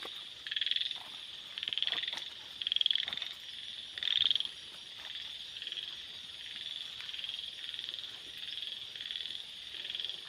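Frogs croak at night in a rice field, a dense chorus of pulsing calls swelling in regular bursts over a steady insect hum, fairly faint and distant with no voices.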